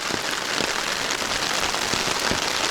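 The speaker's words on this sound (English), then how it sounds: "Holy crap, this rain." Heavy rain pours outdoors in Japan, a dense, loud, unbroken hiss with occasional heavier drops spattering nearby.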